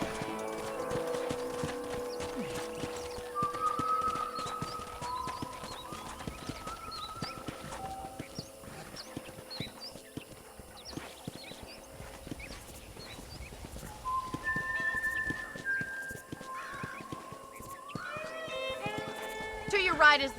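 Hooves clip-clop steadily at a walking pace under a voice talking, with occasional horse snorts and light background ambience, in Red Dead Redemption on PS3.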